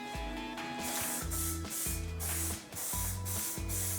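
A spray can lays lacquer onto car wheels in a steady, close hiss. The spray runs in repeated passes with one brief break partway through.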